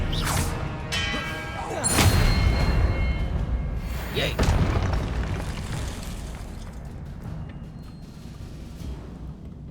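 Confringo fire spell blasts in Hogwarts Legacy, two heavy booming impacts around two and four and a half seconds, each with a thudding low burst and fading rumble, followed by softer game ambience.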